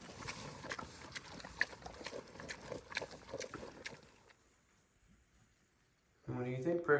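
Little pigs at an animal sanctuary feed noisily, with grunting, munching and hoof shuffling under a person talking, then a quieter pause before talking resumes.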